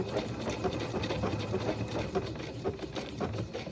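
A sewing machine blanket-stitches an applique onto fabric, running in a steady, fast needle rhythm throughout, close and moderately loud with no talking.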